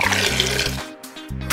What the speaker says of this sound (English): Add water to the tank.